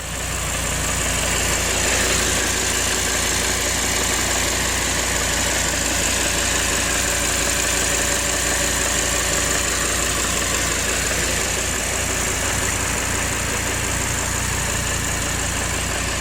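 An Audi R8 supercar engine idles steadily and loudly at close range, with a constant deep rumble and no speech.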